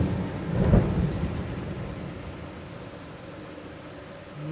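A heavy thunderstorm over Jelgava, Latvia: a deep roll of thunder swells early and fades under a continuous hiss of steady rain.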